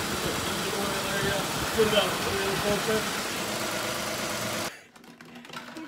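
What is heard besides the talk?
Toyota Aurion engine idling after oil change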